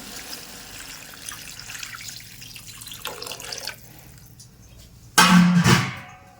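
Water is poured from a vessel into a pot of cooking goat meat. A brief loud splashing gush comes near the end after quieter kitchen clatter.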